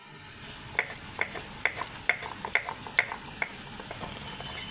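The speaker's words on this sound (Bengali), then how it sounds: "এখন এগুলো বেটে নিচ্ছি শিলবাটায়" Mustard and poppy seeds are ground by hand on a flat grinding stone, giving about eight evenly spaced scraping strokes with a sharp click at each end, close and moderately loud.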